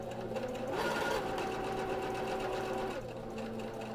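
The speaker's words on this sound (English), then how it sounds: "drop your foot back down and keep stitching" A sewing machine embroiders an apron with a continuous, close mechanical whir that shifts speed midway, with no talking over it.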